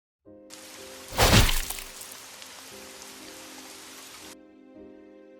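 Rain falling steadily as a broad, even hiss, with a brief louder splash or thud near the start, then continuing at a constant level until it cuts off.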